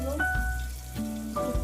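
Spiced masala for a rohu fish curry sizzles in hot oil in a pan, a steady close frying hiss with soft stirring, and a few faint tonal sounds drift through.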